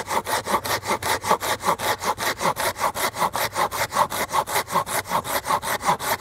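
Steady back-and-forth sawing through thuja wood with a Japanese handsaw, close up, with a quick regular rhythm of strokes that carries on without a break.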